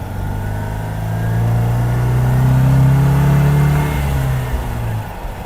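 A 1979 MGB GT's engine hangs at elevated revs, a steady loud drone that swells slightly in the middle and then settles, alone with no voices.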